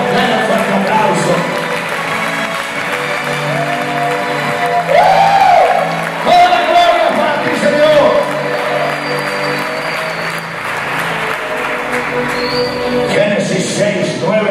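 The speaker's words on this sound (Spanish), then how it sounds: "Dale un fuerte aplauso." A church congregation claps loudly during a Saturday sermon, the applause sustained with whoops and a voice rising over it, and music playing underneath.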